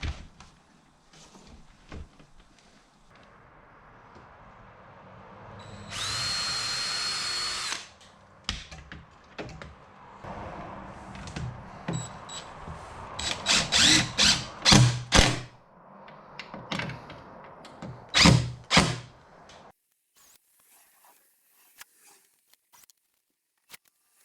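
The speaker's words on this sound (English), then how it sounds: "that's going to hold it in place while we drill and put other screws" A power drill drives screws while a storm door is installed, with several bursts of whirring of varying length and a few clicks and clatters between them, close by.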